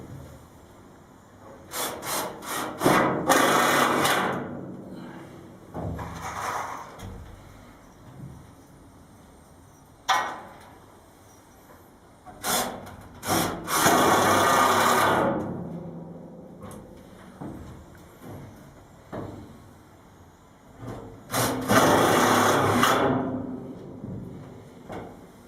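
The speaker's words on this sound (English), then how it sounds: "So I'll just carry on and get these screws in." Screws being driven into wooden floor battens inside a narrowboat, in repeated bursts of a few seconds each, separated by short pauses. The sound is close and fairly loud, with no talk.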